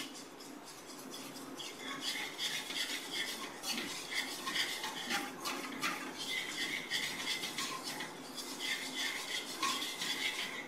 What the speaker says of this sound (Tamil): இந்த சர்க்கரை பாவில் இந்த மாவு நல்லா கலக்கணும்.